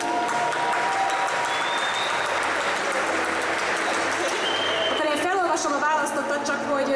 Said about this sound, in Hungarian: Nagy tapsot kérek szépen neki.